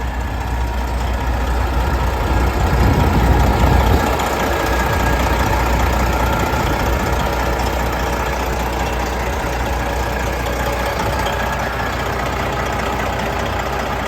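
Kenworth W900L glider kit daycab truck with a hot engine idling steadily, a deep continuous low rumble with a slight knocking texture, close and loud, no talking.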